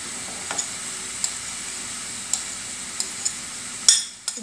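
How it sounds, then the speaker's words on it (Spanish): Garlic added to a pan of skin-on chicken pieces frying in their own fat, a soft steady sizzle with a few sharp crackles and pops, louder near the end. "Le voy a agregar el ajo"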